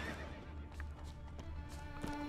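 Wild horses neigh and whinny in The Witcher 3: Wild Hunt, several high calls rising over a steady low ambient rumble with soft hoof clip-clops, moderately near and fairly quiet.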